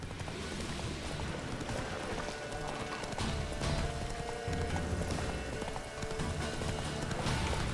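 Roach the horse gallops in The Witcher 3, a fast, steady clip-clop of hooves running continuously at close range under a layer of game ambience.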